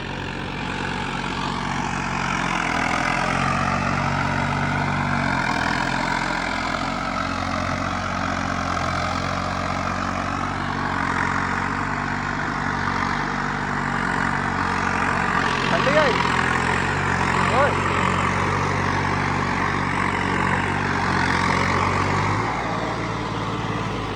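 A New Holland 3630 tractor runs in second high gear, its diesel engine giving a steady, low, rumbling drone with a constant mechanical whine, loud and close throughout, while people talk over it.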